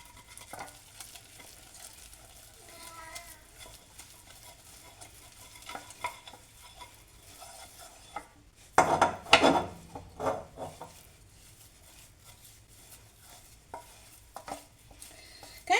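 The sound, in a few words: stirring flour into choux paste in a pot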